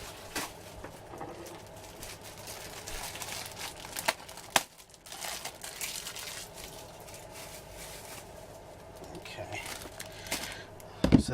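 A paper napkin being unwrapped from its plastic packaging, with crinkling and rustling and a few tearing bursts, close and fairly quiet, and faint voices at moments.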